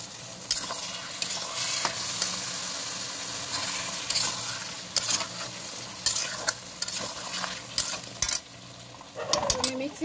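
Food fries in a pan with a constant sizzle while a utensil stirs and scrapes against the metal in repeated bursts, with faint voices now and then.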